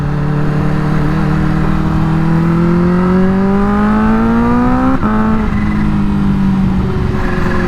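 Kawasaki Ninja H2 motorcycle on an unlocked tune with the exhaust baffle fitted, revving loud and close with a steadily rising engine pitch, a brief break near five seconds, then settling back to a lower steady rev.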